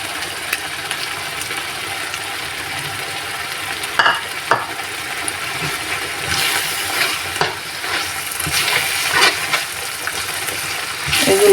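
Prawns with a spice paste of ground coconut sizzle in oil while being stir-fried for a prawn bhuna, a dense steady hiss punctuated by scraping spatula strokes against the pan.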